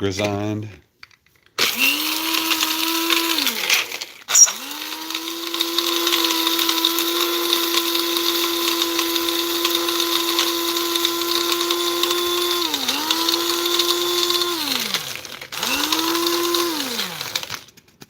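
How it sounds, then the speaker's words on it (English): A small electric grinder whirs loudly while grinding seasoning, MSG among it, in a few sustained bursts with brief dips and pauses between them, close by. "Go ahead and give it a grind."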